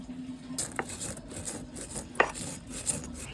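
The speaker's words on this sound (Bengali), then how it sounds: "এই ভাজা মশলাটা আমি এখন গুঁড়ি করে নিচ্ছি" Roasted whole spices ground to powder for a chicken maharani curry, a faint close rasping and rubbing with a couple of sharp scrapes and knocks.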